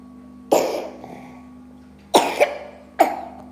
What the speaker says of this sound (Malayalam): ചുമയാണല്ലോ.